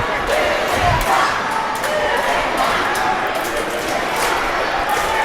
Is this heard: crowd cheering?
yes